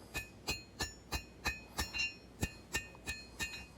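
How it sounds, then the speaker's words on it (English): A hand hammer strikes a small hot knife blade on an anvil, forging its bevels: about a dozen sharp ringing blows in a steady rhythm, roughly three per second, fairly faint and close with no talking. "I'm already forging out the bevels on that smaller blade."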